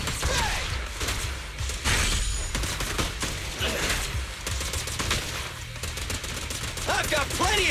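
Rapid gunfire in the Zenless Zone Zero action game: fast, repeated bursts of shots with clattering mechanical and impact sounds, loud and nearly constant across the whole stretch.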